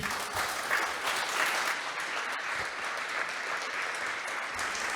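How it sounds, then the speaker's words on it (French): An audience applauds after a conference talk on the new challenges of cartography: dense, even clapping from a large crowd that holds steady throughout. "juste pour qu'on prenne le temps de vous applaudir"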